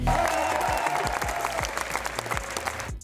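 Fans at Cannes clap and cheer for Johnny Depp with a lively burst of applause and crowd noise, sharp individual claps standing out before it cuts off abruptly.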